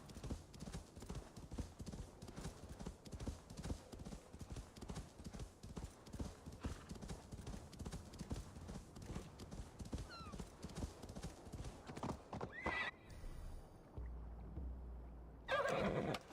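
Rapid hoofbeats of a galloping horse in the video game Assassin's Creed Valhalla clatter steadily, with a whinny near the end and a brief pause before the clopping resumes.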